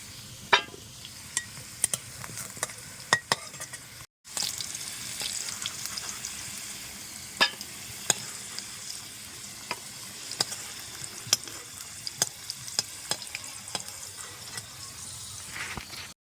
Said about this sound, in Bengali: তো আমার আলুগুলো কিন্তু লাল লাল করে ভাজা হয়ে গেছে, এখন আমি তুলে নেব।